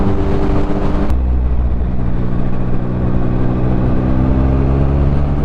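A Triumph Speed Triple 1050 motorcycle engine runs with a steady, loud mid-pitched drone and a sharp shift in tone about a second in, heard up close while riding home from work, with no talking.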